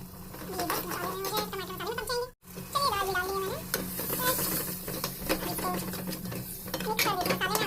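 Steady sizzling of onions frying in a pan with tomatoes, turmeric and chili added, with a voice talking over it and a brief clatter partway through.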